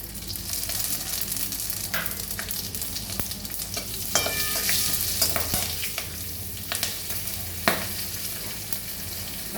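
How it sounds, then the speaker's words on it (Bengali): Four green chillies and radhuni spice fry in hot oil, a steady dense sizzle with occasional stirring clicks and pops throughout. "এই তেলের মধ্যে দিয়ে দিলাম আমি 4টে কাঁচা লঙ্কা আর রাঁধুনি"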